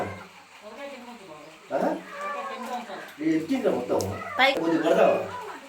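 A kitten trapped in a narrow gap in a wall gives several strained meows, mixed in with people talking close by during a rescue attempt.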